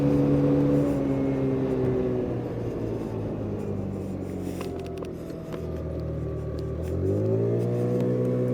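Lexmoto Echo Plus motorcycle, its engine cold on a first ride, accelerating on the road: a steady near engine drone with harmonics that rise slowly, dip, then climb again as it picks up speed, with wind rush underneath.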